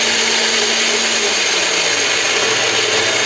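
Electric mixer beating egg whites with sugar for swallow's-nest cookies, a steady loud whirring drone holding for a few seconds, with a low tone that drops as the motor load changes.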